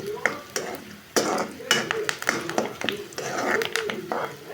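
Onion, garlic, curry leaves and mustard seeds sizzle in hot oil in a pan, with busy clattering stirs and utensil knocks over a crackling hiss, close and fairly quiet.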